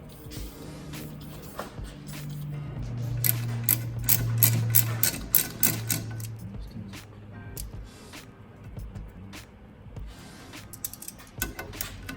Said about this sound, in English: I'm gonna start by getting all those little small bolts out, and then I'll work on the bigger ones